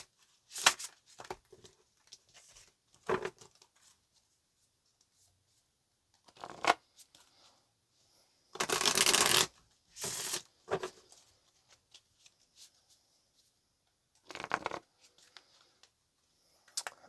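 Tarot cards are shuffled on a table in several separate bursts of close, crisp riffling and flicking, with one longer loud shuffle partway through and quiet gaps between.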